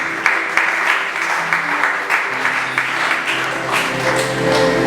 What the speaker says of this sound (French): Est-ce qu'on peut l'acclamer, s'il vous plaît?